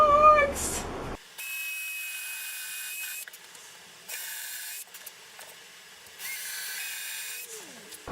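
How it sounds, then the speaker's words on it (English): Bursts of a power drill whirring into a table in three separate runs, each a second or so long, with quiet pauses and small clicks between them, close by. "this is the scary part now, to drill into the table."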